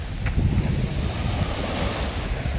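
Waves wash onto a small sandy beach at Gajin, Goseong, on Korea's East Sea, a steady close surf roar mixed with wind buffeting the microphone, with no voices.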